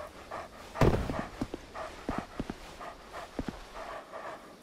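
Dogs in Dark Souls II pant in quiet, uneven bursts, with a sharp thud early on and soft scattered movement sounds around them, faint and somewhat distant.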